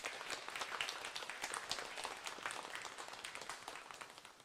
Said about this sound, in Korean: 우리 하나님께 감사의 박수를 우리 하나님께 먼저 한번 올려드리겠습니다.